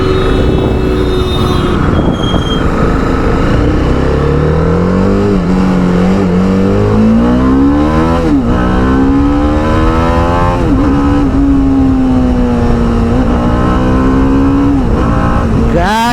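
A TVS Apache RR310 motorcycle pulls hard in second gear in track mode, its engine roaring loud and close as the pitch climbs, dips at shifts and climbs again, with steady wind rush throughout.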